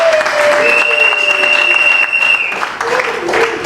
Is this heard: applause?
yes